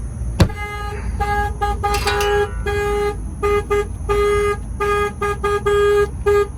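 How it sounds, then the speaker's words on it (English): A Peterbilt truck's security alarm sounds its horn in loud, close blasts, a series of steady honks of uneven length with short gaps between them, preceded by a sharp click and with no one talking. "If somebody walks up and they bang on the glass, the alarm will fire off."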